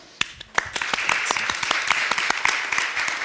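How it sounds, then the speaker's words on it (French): Audience applause at a conference debate, starting with a few individual claps that quickly swell into steady, dense clapping from a room full of people. "on va vous applaudir déjà"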